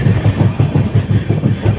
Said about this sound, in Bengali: এখন আমাদের ট্রেন প্রবেশ করতে চলেছে তার যাত্রাপথের একটি স্টপেজ তিহুরতে